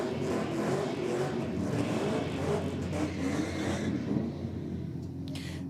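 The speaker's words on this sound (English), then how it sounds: "that white Commodore from before. Sounds like it's running open pipes, Mark." A VF Commodore running open exhaust pipes roars down a drag strip, a loud continuous engine drone from mid-distance that holds steady before slowly fading.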